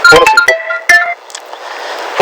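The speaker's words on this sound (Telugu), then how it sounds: "Hero phone చేసినట్టున్నాడు." A phone ringtone plays a bright, melodic electronic tune in short bursts, then cuts off, leaving faint background noise.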